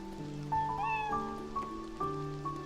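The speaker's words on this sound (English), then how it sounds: "Oh, a cat." A cat meows in the rain in the video game Beyond Eyes, giving a few short, close, wavering cries over a soft, steady patter of rainfall.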